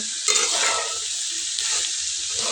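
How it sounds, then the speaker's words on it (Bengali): Chickpeas are stirred in a hot pan with a spoon scraping through the mixture, a continuous sizzle running throughout with a few louder scrapes, close up and without any voices. "সবগুলো একসাথে আমি নাড়াচাড়া করে নেব।"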